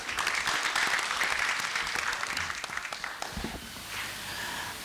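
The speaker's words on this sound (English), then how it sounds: "Let's give another round of applause to our speakers." A round of applause from the audience at a projects launch event, dense clapping that fades toward the end into room noise and light movement.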